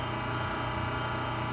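A newly replaced kitchen garbage disposal runs with a steady, even motor hum and a low vibrating drone, close and unbroken, with no voices.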